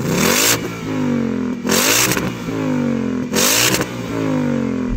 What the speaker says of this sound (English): Go on, rev up the V8.